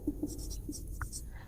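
Pen or marker writing out a maths proof on a board or page during a geometry lesson, with a few short scratchy strokes at close range under a steady low background.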